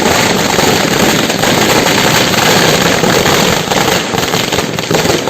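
Dense, continuous crackling bursts of firecrackers pop in rapid succession at an election victory celebration, loud and sustained throughout, with no voices.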